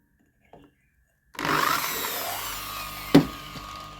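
After a brief click, an electric chainsaw chain sharpener driven by a plug-in drill whirs up loudly and runs steadily, with a sharp grinding clack near the end.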